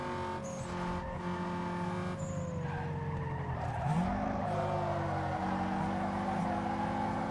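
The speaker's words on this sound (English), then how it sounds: "Since I know we've got some of that NOS built up in reserve, I think I'm going to make some use of it." A race car in Need for Speed Underground 2 surges under NOS boost, its engine droning loudly with a swooping pitch drop and rise, tire squeal in the mix.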